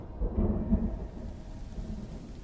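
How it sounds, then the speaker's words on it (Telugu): A deep thunder rumble rolls through a film storm, loudest early and then fading into a steady wash of falling rain. "దేవతల ఆగ్రహ వర్షం తుంబాడు మీద కురుస్తూనే ఉంది"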